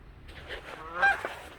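A goose honks once, loud and nasal, with a brief rise and fall in a short outdoor moment, close by and alone.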